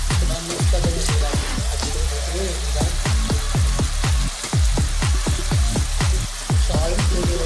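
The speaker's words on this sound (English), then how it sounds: "Side by side the onions are fried." Cumin and onions frying in oil in a pan give off a steady, loud sizzle with repeated crackling pops in an irregular rhythm, continuing throughout.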